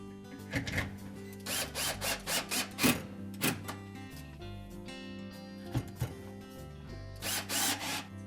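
A power screwdriver whirs in short, repeated bursts with brief pauses between, as screws are driven in close by while replacing the accumulator in a Whirlpool dishwasher.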